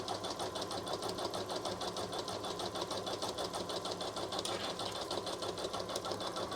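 A Janome Memory Craft 1000 embroidery machine stitches and cuts fabric with a fast, even mechanical whir, its needle pulsing rhythmically and steadily at close range throughout.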